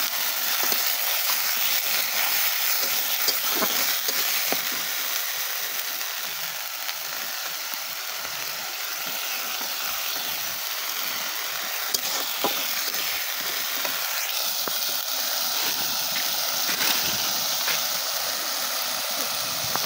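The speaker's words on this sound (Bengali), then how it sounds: "সব ধরনের মশলা দিয়ে দিয়েছি, দিয়ে একটু কষিয়ে নেব।" A steady hiss of spices and ginger-garlic paste sizzling in a hot pan runs throughout, with occasional scraping ticks from stirring.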